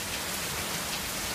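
Heavy rain pouring down on a road, a dense, continuous hiss of downpour at even loudness throughout.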